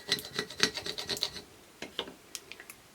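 A squeegee burnishes adhesive vinyl onto transfer tape in a series of close, dry rubbing and scraping strokes, dense at first, then sparser, with no talking.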